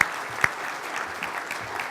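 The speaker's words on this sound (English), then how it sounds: "A round of applause for Michelle and Bud and for Tim as well." An audience at a presentation on grid edge deployment case studies claps for the presenters, a short even patter of many hands with a couple of sharper claps standing out.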